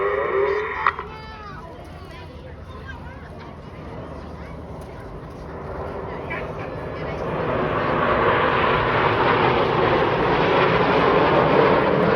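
Red Arrows Hawk jets roar overhead during an air display, a broad engine rumble that swells louder over the final seconds while a commentator talks throughout.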